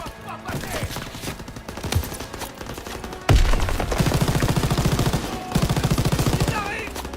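Call of Duty WWII battle with loud, sustained bursts of rifle and machine-gun fire, rapid rattling volleys after a heavy impact, and shouted voices in the mix.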